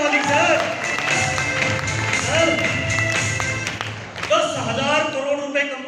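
An indoor audience at a motivational talk claps in a dense, continuous burst over a speaker's voice and some background music.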